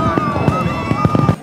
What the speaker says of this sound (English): Earlier, 8 tons of fireworks lit up the sky above the Thames.